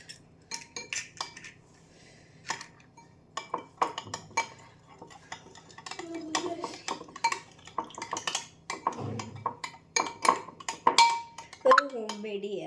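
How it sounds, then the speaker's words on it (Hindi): A spoon stirs eggs into homemade cake batter in a bowl, giving irregular clinks and scrapes against the bowl, with someone talking over parts of it. "दूसरा अंडे को भी स्टर।"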